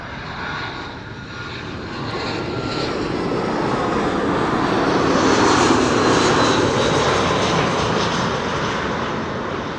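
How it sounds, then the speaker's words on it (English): A British Airways airliner arrives at Amsterdam Schiphol from London Heathrow on a sunny day, its engine roar building steadily and loudly as it passes close by. "BA coming in from London Heathrow."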